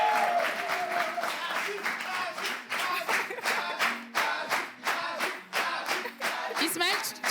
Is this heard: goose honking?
no